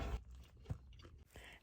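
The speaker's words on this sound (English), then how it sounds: "There's a crunch to it." A single crunchy bite into a sunset square pastry, followed by a few quiet chewing crunches, close and soft with no talking.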